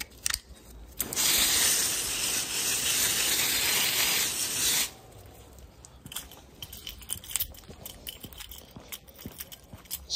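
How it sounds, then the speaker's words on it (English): A softwash hose sprays water to rinse plants after UPVC cleaning, a loud steady broadband hiss lasting about four seconds before cutting off, followed by quieter scattered rustles and taps. "Just make sure I rinse the plants off."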